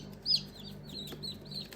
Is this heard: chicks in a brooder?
yes